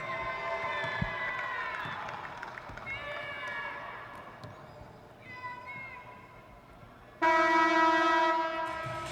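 A commentator speaks over a steady arena murmur at the 1997 Hot Shots basketball finals in Boston's Fleet Center, then the crowd erupts into a loud, sustained cheer for the final two seconds.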